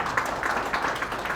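Applause from a health sector caucus audience, a brief patch of soft, steady clapping heard from a distance in a large hall.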